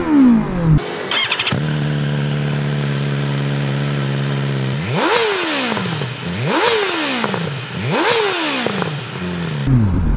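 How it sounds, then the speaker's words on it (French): A BMW M1000R motorcycle with an open exhaust starts up and idles with a loud, steady rumble, then gets three sharp revs that rise and fall in quick succession, close and alone. "Pot d'échappement à cran."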